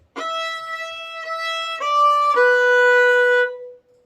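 A solo fiddle plays a short phrase of the tune Squirrel Hunters, several clear bowed notes stepping downward to a longer held final note, close and alone.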